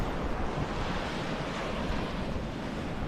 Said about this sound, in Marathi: लाटा जोरजोरात येऊन इथं आदळायला लागलेल्या आहेत